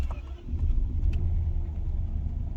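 A BMW 7 Series car engine running with a low, steady rumble across the whole stretch, close and fairly loud, after a brief start-up surge at the beginning; no talking.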